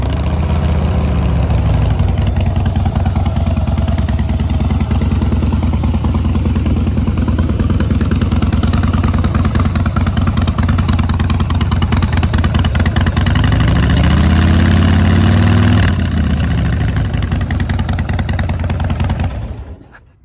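Engine of a 2016 Harley-Davidson Softail Slim idling close by, a loud, deep, lumpy V-twin throb that holds steady, swells briefly in the middle, then cuts off at the end.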